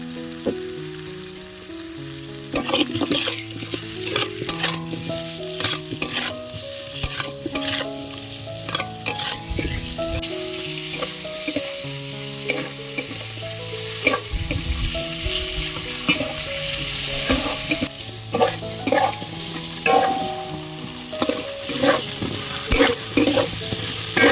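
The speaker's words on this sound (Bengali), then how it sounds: "তো দেখো আলুগুলো ভাজা হচ্ছে" Potatoes frying in a pan with a little salt and turmeric, a continuous close sizzle broken by frequent sharp stirring clatters and scrapes of a utensil, with no talking.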